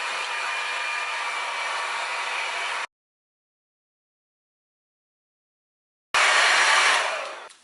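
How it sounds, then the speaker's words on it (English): Hair dryer blowing on hair while styling for volume, a loud steady rush that runs for about three seconds, cuts out, then returns after a pause and fades away at the end. "So now we're just going to blow dry our hair and style it as normal"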